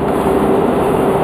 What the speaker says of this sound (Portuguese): Vamos fazer mais 2 furos